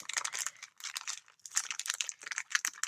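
Plastic paper packaging crinkled and crackled while being opened, holding craft dies and tools, a close, busy, continuous rustling with brief gaps.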